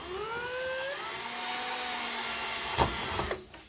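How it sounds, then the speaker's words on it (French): Small drill with a 3 mm bit boring a hole, a steady close whine that winds down near the end, followed by a sharp knock and a short quiet tail. "Donc je vais faire les trous pour passer mes fils."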